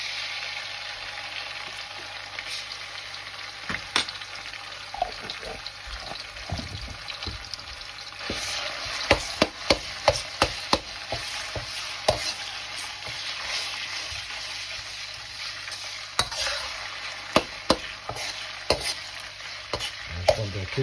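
Ginger and garlic paste fries with softened onions in a pan, giving a continuous sizzle broken by frequent clacks and scrapes of a spoon stirring. The sound is close and busy, with no voices.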